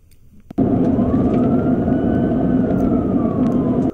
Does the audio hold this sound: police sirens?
yes